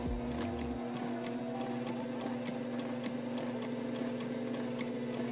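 A sewing machine stitching a fabric seam runs continuously as a steady, even mechanical hum with a fine rapid needle rhythm, alone and fairly quiet throughout.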